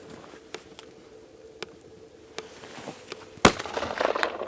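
A single sharp rifle report from a Howa Model 1500 in 7mm magnum rings out midway through a hunting scene, preceded by faint ticks and taps in quiet outdoor air and followed by rustling movement.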